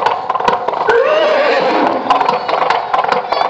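A horse whinnies loudly and close, a long wavering neigh, with hooves clip-clopping steadily throughout.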